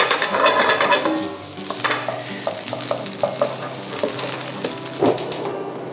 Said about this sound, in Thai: โอ้นี่มันพริกแกงมันยังไม่ละลายดีผมต้องผัดให้มันเข้ากันดีก่อน